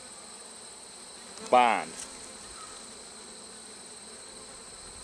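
Bees hum faintly and steadily around an opened modified Warre hive during an inspection, with a brief louder swooping buzz partway through and a single spoken word.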